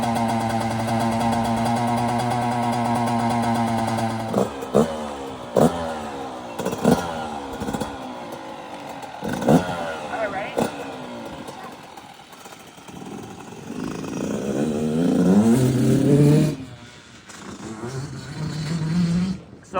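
Yamaha YZ85 and YZ85 large-wheel dirt bikes rev and ride. A steady idle gives way to sharp throttle blips and climbing revs, with the engine note rising and falling as the bikes pull away and return.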